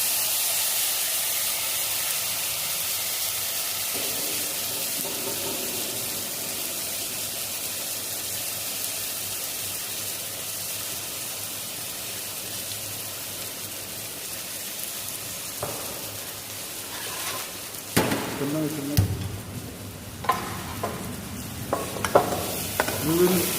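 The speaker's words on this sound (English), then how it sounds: "We will saute the rice for few minutes" Rice sautéing in butter in a pan for mushroom risotto, a steady soft sizzle running throughout, joined near the end by louder scraping stirs and spatters, with no talking.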